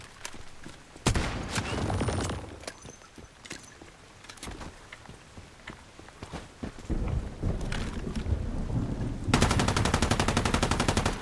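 AK rifle fire from the video game Once Human cracks out in loud bursts and single shots through the middle, then finishes in a long, rapid automatic stream, close and punchy.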